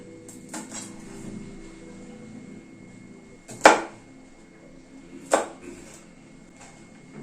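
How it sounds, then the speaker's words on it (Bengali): A knife cuts through a pointed gourd in a home kitchen, with two sharp thuds of the blade striking the cutting board a couple of seconds apart against a quiet background. "পটলটাকে মাঝখান থেকে অর্ধেক করে নিচ্ছি, এরকম 2 টুকরো করে নিচ্ছি।"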